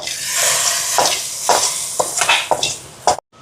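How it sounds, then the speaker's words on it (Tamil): Onion, green chilli and crushed garlic sauté in a pot, sizzling under a rhythmic series of spoon strokes scraping the metal, then stopping abruptly. "வெங்காயம், பச்சை மிளகாய், உள்ளி எல்லாம் இருக்குது. உள்ளி ஏற்கனவே இடிச்சும் வச்சுருக்கிறேன். இதெல்லாம் வதங்குது."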